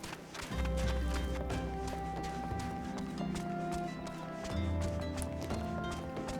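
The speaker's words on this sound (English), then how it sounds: "I don't know if I like listening to Choco's footsteps the entire time. They're a bit heavy." Heavy chocobo footsteps in Final Fantasy XIV: A Realm Reborn thud out at a running pace, steady and close, under continuous game music.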